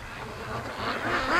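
Free-range ducks quacking as they come down a creek toward a lake, a few faint calls building toward the end, no talk.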